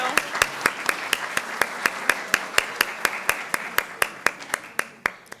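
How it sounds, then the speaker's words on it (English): Clapping at a school board business meeting, with sharp, evenly spaced claps repeating steadily for several seconds, close and distinct rather than a dense crowd roar. "let's give them a round of applause"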